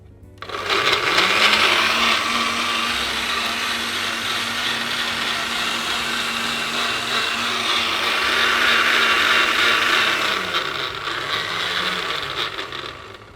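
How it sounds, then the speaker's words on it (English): A blender blending a cocktail runs continuously at high speed with a loud steady whir, its pitch shifting slightly as it spins up, then winding down near the end. "make sure your blender is always nice and stable on your base"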